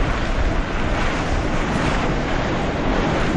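Strong wind gusts roar steadily during a severe thunderstorm in Pennsylvania, a loud, dense rush of buffeting air hitting the microphone without pause and with no voices.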